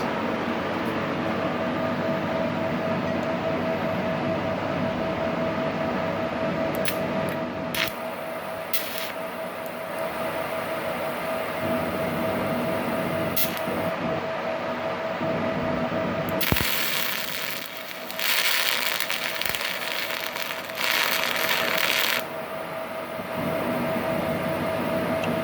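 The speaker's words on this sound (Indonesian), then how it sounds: "kita coba untuk mengelas" Automatic 315AD argon TIG welding machine running a steady buzzing hiss with a constant hum, broken by brief clicks and a louder crackling stretch partway through.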